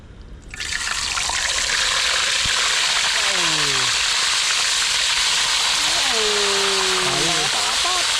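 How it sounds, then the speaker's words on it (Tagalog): Tilapia frying in hot oil gives off a loud, steady sizzling hiss that starts abruptly, with voices speaking briefly over it. "Antayin po natin uminit, tapos lalagay po natin tilapia. Tapos habang nagpiprito po tayo"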